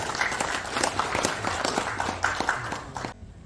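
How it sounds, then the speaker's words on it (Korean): Applause from a conference audience for a speaker at an academic symposium, moderately dense clapping with distinct individual claps that stops abruptly near the end. "큰 박수 부탁드리겠습니다"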